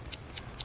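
Scissors roughing up the edges of paper pieces for a junk journal page, giving three brief crisp snipping rasps spaced evenly over a low steady room hum, close and quiet.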